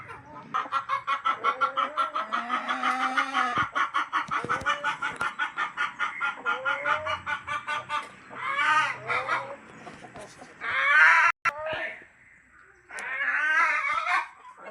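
Native country hens and roosters kept in a backyard flock, clucking and calling steadily near at hand, with overlapping squawks and a few louder bursts toward the end, no voices.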